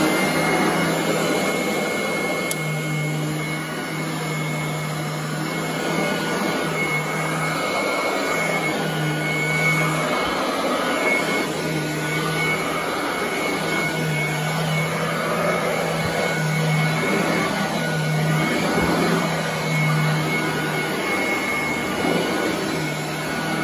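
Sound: Royal vacuum cleaner vacuuming exposed floor areas

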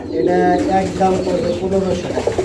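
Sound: fancy pigeons cooing

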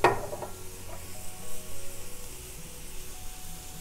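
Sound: deglazing shrimp pan with white wine, sizzling

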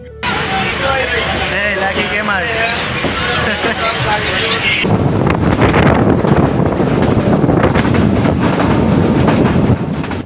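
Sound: train running from Daulatpur to Kushtia

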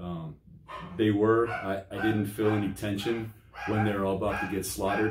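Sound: dog barking in the background

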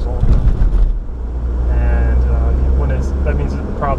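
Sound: 1983 Mazda RX-7 rotary engine running

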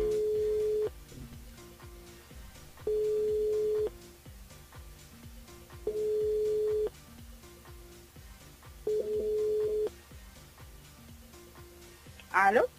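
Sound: telephone ringing during radio call-in

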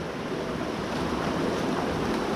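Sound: river flowing through a cave

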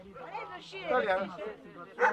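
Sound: dogs barking and whimpering

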